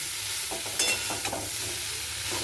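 Cauliflower florets frying in oil in a pan for a Bengali boal fish curry, giving a steady close sizzle with a few soft scrapes and clinks of stirring.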